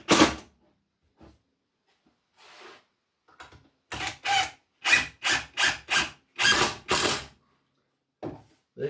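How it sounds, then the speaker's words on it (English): Screws are driven back into drilled holes in the wooden rails of a shaving horse, heard as several short, sharp bursts of a driver spinning in quick succession, close and distinct against near silence. "I'm going to go ahead and put these same screws back in"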